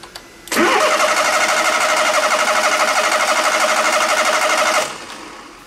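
A car engine cranks on its starter motor and catches, running loud and steady for about four seconds before cutting off abruptly.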